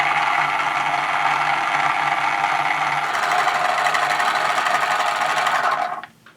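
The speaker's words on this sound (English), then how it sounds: "So now I'm going to test it with it hooked up to the wheels." OmniBot 2000 toy robot with its drive motors hooked up to the wheels through the transmission, whirring steadily and close up for about six seconds before cutting off abruptly at the end.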